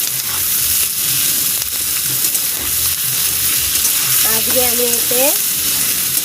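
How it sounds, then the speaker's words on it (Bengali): Onion, tomato, potato and chilli fry in a pan with a steady, bright sizzle and occasional stirring scrapes; someone speaks briefly near the end. "পেঁয়াজ, টমেটো, আলু, লঙ্কা সব ভাজা হচ্ছে"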